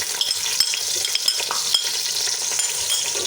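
Chopped onions sizzling and crackling in hot ghee in a pan, with steady frying hiss and occasional clinks and scrapes of a spoon stirring against the metal.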